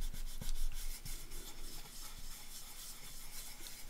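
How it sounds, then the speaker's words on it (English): A finger rubs paste into a paper journal page, making a soft, close, steady scratchy rubbing with a few faint taps, and no talking. "Then get my finger, take a little bit off that, and then just rub that in."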